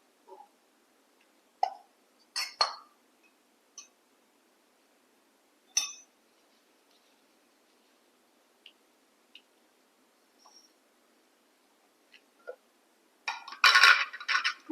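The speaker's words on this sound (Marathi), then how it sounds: "मी चाळण ठेवते याच्यावरती" A metal sieve set onto a cooking pot in a home kitchen, heard as scattered sharp metallic clinks and taps spread across a quiet stretch, closing with a louder cluster of clattering contacts near the end.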